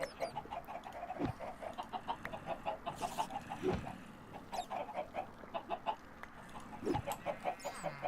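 Minecraft chickens in Sky Factory 3 cluck in a rapid, repeated series at low volume, with a few dull thumps scattered between the calls.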